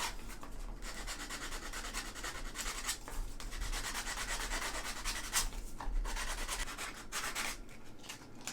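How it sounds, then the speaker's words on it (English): Sandpaper rubbing steadily over a Dollar Tree wood pumpkin, working into tight spots and corners with a continuous close scratchy hiss broken by brief pauses. "I'm getting in these little tight spots here with the sandpaper"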